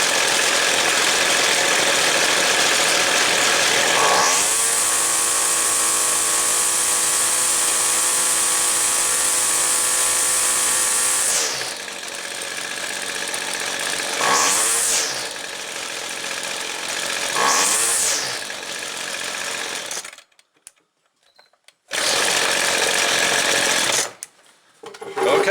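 A two-stroke equipment engine runs at high revs after a carburetor adjustment, buzzing loudly and then dropping to a rougher idle with repeated throttle blips, cutting out briefly before restarting.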